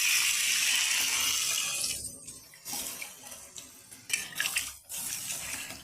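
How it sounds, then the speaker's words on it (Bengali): Water pours into a pan of Bengali bhola fish curry with potato and cauliflower, a steady close rushing splash that fades after about two seconds into intermittent sizzles and liquid bubbling. "এখন আমি পরিমাণ মতন জল দিয়ে দেবো।"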